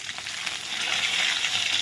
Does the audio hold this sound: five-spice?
yes